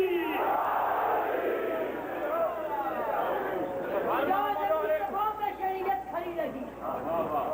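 Crowd at a Shia majlis in Model Town, Lahore, shouting the Naara-e-Haidari slogan in loud collective voices that swell and fall across the whole stretch.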